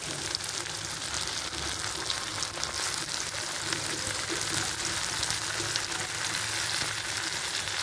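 Tomatoes tossed into hot oil for a moong dal curry give a loud, dense, even sizzle that holds steady throughout, close and unbroken, with no voices.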